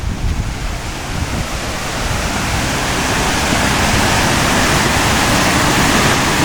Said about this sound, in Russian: Находимся на еще одном водопаде рядом с пляжем.